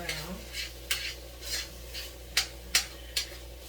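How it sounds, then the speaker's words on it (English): Ground beef gets stirred in a pot with a metal utensil, giving repeated scraping clinks at an uneven pace over a soft background sizzle, close and moderately loud. "Keep stirring the beef there."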